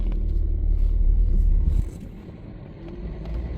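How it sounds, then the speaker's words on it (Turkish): Diesel engine of a 2013 Volkswagen Golf 1.6 TDI Comfortline, a steady low rumble heard from close by. The rumble eases and quiets partway through, then swells slightly again toward the end. "Ya dizel araba olduğu için motor sesi biraz olabiliyor."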